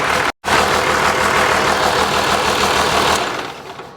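A 12-valve Cummins diesel engine, a junkyard unit rebuilt for high power, idles nearby with a loud, steady knocking rumble that cuts out for an instant near the start and fades slightly at the end.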